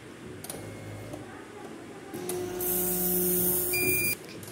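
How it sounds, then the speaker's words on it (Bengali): A CBC blood analyzer processes a sample with ticking mechanical clicks and a brief whir, followed by a louder steady hum and beep near the end, close up and without talking. "এটা রানিং করাই ছিল, জাস্ট এখন আমি মেশিনে খাওয়াই দেব।"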